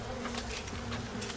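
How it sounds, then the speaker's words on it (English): A swarm of bees in the video game Bioshock buzzes in a dense, continuous drone, loud and close, with no other sound over it. "Let's throw some bees."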